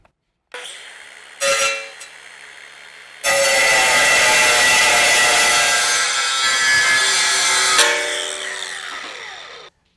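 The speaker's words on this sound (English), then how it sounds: "It's pretty thick steel, so if you got a cutoff wheel, that'd be ideal, or a grinder like this" A handheld grinder cutting through thick steel while installing a Roadmaster direct-connect base plate: a short initial bite, then a loud, sustained close-up abrasive whine lasting several seconds before it winds down.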